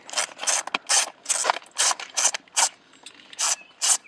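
A ratchet with a 10mm socket backs out the airbag bolts on a Miata NB steering wheel in quick bursts of clicking, about eight close, crisp runs separated by short pauses.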